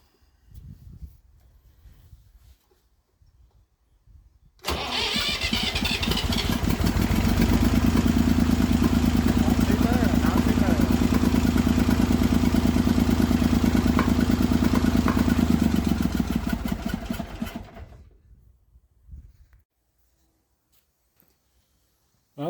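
A Massey Ferguson 35 tractor's three-cylinder diesel engine cranks, catches and runs loudly at a steady, rough idle for about ten seconds. It then shuts down and the engine noise fades into quiet.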